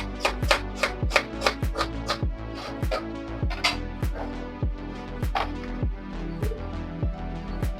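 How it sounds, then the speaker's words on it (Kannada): A knife chops onions into small pieces on a board in quick, regular, crisp strokes, close and clear, with no talking. "ಈ ರೀತಿಯಾಗಿ ಚಿಕ್ಕ ಚಿಕ್ಕದಾಗಿ ಈರುಳ್ಳಿನ ನಾನು ಕಟ್ ಮಾಡ್ಕೊತಾ ಇದ್ದೀನಿ ನೋಡಿ"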